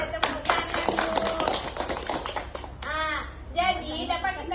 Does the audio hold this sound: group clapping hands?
yes